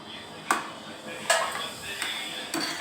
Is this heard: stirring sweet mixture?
yes